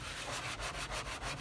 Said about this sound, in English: I'm using the scratchy side and scrubbing hard.